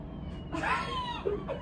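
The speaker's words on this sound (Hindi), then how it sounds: "मुझे ये बिल्ली की आवाज क्यों आ रही है यार बेड के नीचे?" A single faint cat meow, drawn out and slightly wavering, heard softly in a quiet room.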